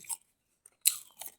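Close, wet chewing of homemade fishballs with a few crisp bites in short bursts separated by brief silences.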